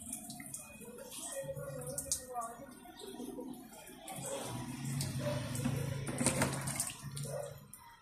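Water pouring and splashing onto chili plants in the ground during garden watering, a steady, moderately close flow with voices talking over it.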